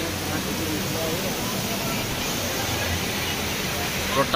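A large indoor waterfall at the Dubai Mall pours as a steady, dense rush of water that fills the space evenly and continuously.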